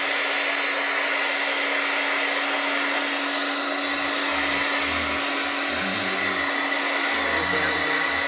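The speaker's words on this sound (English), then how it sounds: "I'm just going to hit it with a hairdryer real quick" A hair dryer blows steadily with a constant whooshing roar and a low motor hum throughout, close by.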